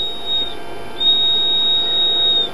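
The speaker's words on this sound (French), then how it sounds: "on entend nettement le buzzer" A thin, high-pitched electronic buzzer tone from a liquid-detector circuit sounds steadily, growing stronger partway through, over a faint background hiss.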